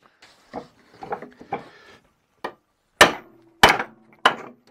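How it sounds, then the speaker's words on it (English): A 2x4 wooden board is used to knock a jack shaft out of a Polaris Cross Country Indy snowmobile's chain case, giving several sharp hard knocks with softer taps and scraping between them. "we're just going to take a 2x4 and"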